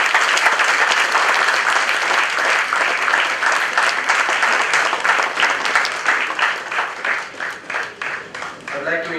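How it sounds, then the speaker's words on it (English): Sustained audience applause at a management institute convocation, loud and dense at first, then thinning toward the end into more distinct, separated claps from a large seated crowd. "Ladies and gentlemen, please keep the claps continuing."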